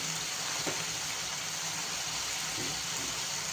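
Tomatoes sauté in a pan for Marathi fodaniche varan, giving off a soft, continuous sizzling hiss that stays even and fairly faint from start to finish.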